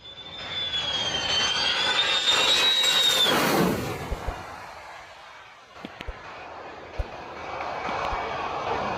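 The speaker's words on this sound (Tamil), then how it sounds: "பார்வையாளர்களின் தலைமுடியை கலைத்த F-16 ரக போர் விமானத்தின் அதிர வைக்கும் லேண்டிங் காட்சி." An F-16 fighter jet roars in to land close by, its loud engine howl rising with a whistling tone and then fading, followed by a quieter rumble with a few sharp clicks and knocks.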